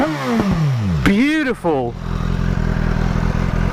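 A stock-exhaust 2019 BMW S1000XR motorcycle engine revs sharply up and falls back, then settles into a steady, loud idle, with a voice exclaiming over the start.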